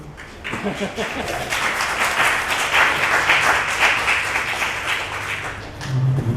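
Audience applause at a live in-person concert, a dense burst of clapping that builds quickly and holds steady for several seconds, with a voice speaking briefly before and after.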